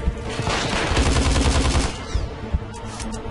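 Gunfire in Hitman Absolution: a dense, rapid volley of shots for about two seconds, then a few scattered single reports, loud and close with no talk.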